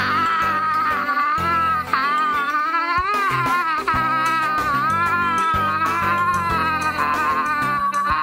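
A cat yowls and meows repeatedly in the Amiga CD game Sixth Sense Investigations, long wavering cries over game music with a steady beat.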